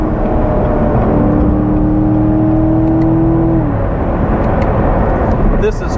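C7 Corvette Stingray high-performance sports car accelerating on the road, a loud steady engine drone rising in pitch with constant road noise, then easing off as the revs settle near the end.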